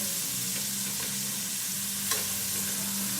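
Veal scallopini frying in butter in a pan gives a steady close sizzle with a low background hum and a light clink or two from a utensil, with no voices.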